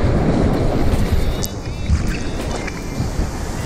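Ocean waves on a Puerto Rico beach rumble and wash continuously with broadband surf and wind buffeting the microphone, loud and close throughout.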